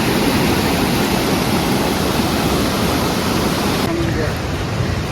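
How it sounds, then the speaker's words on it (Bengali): A waterfall on the Poon Hill trek in Nepal roars as a dense, steady broadband rush of falling water, loud and continuous from start to finish. "উপরে একটা ঝর্ণা দেখা যাচ্ছে"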